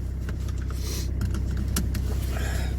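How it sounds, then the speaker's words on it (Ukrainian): A car engine idles low and steady while warming up on a cold morning at minus four degrees in the shade, heard from inside the cabin with small clicks and rustles over the hum. "Поки машина прогрівається"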